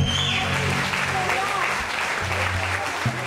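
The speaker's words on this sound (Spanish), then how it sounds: "Fuerte, fuerte el aplauso para él." Concert audience at a show in Marinaleda applauds loudly and steadily, with crowd voices and a low musical hum underneath throughout.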